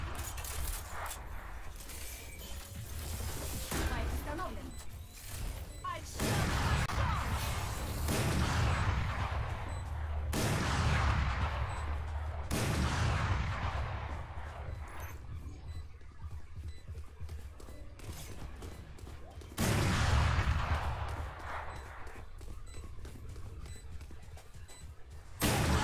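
Sniper rifle shots and heavy gunfire in the tactical shooter Valorant, with several sharp, loud reports spaced several seconds apart, each trailing off with a booming decay over a rumbling background.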